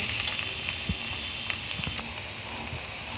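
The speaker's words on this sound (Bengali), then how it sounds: "ঢাকনাটা তুলে আমি এই লাউটাকে ভাজা করে নিচ্ছি" Steady oil sizzle of bottle gourd frying in a pan, with occasional soft scrapes and taps, close and alone without talk.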